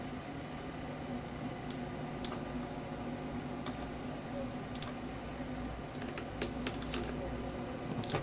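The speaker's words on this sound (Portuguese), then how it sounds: "Só uma digitação." Soft, scattered clicks of someone typing on a computer keyboard while working in Excel, coming in short irregular bursts with a few sharper taps toward the end over a steady hiss of room noise.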